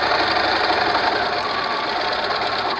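A sewing machine stitching a fabric medical mask cover, running as a steady, loud, continuous mechanical whir close by with no pauses or talk.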